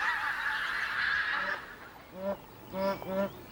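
Geese let out a few loud, nasal honks in quick succession near the end, following a stretch of higher, continuous squawking from the flock.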